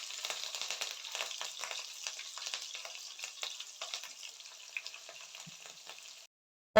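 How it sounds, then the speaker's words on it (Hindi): Cumin seeds and whole green chillies hit hot oil that was used to fry potatoes, giving a loud, crackling sizzle that holds steady for several seconds before cutting out abruptly. "अब उसी ऑयल में डालूंगी थोड़ा सा जीरा, साबुत सब्ज मिर्चें,"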